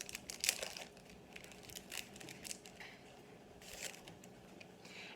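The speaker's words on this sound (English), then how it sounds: "These do come in a wrapper, so you have to unwrap them." Crinkly plastic wrapper rustling as ColorStreet nail strips are unwrapped, with a sharp crackle near the start and softer intermittent crinkles after.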